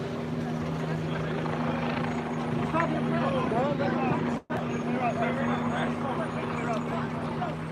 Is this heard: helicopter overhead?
yes